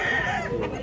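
A rooster for sale at a gamefowl farm gives a close, loud harmonic crowing call that carries steadily for under a second.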